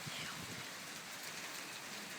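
Small hail falling with rain in a thunderstorm, a steady, dense hissing patter that stays even throughout, with no voices.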